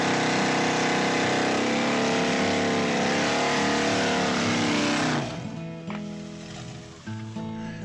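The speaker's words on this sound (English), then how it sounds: "smash the throttle, you can heat your tires up doing a massive burnout without foot braking" A car engine screams at sustained high revs during a tire-heating burnout, loud and close with rising harmonic whine, then drops abruptly toward the end into lower, uneven revving.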